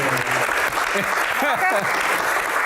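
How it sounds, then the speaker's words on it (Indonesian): Studio audience applause at a televised Q&A on the Hajj, steady clapping underneath a voice talking over it. "Oke, tepuk tangan"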